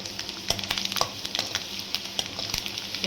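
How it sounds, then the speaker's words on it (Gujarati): Garlic sizzles in oil while a spoon scrapes and taps against the pan in quick, irregular strokes, close up. "લસણની અંદર જે એનો પાણીનો ભાગ હોય ને એ બધો બળી જશે ત્યાં સુધી આપણે એને હલાવવાનું છે"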